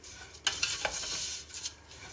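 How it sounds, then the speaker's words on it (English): Vermicelli stirred in hot oil over medium heat, close soft scraping strokes over a faint sizzle, with a few sharper clicks of the spoon against the pan. "keep it on medium heat and start mixing"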